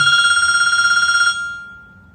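A telephone rings with a rapid electronic trill for about a second, close and loud, then cuts off and leaves a fading tone.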